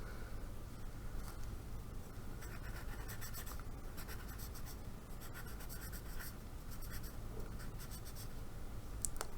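Pencil scratching across paper in close, quiet ASMR style, a continuous soft scritching with bursts of quicker strokes and brief pauses between them.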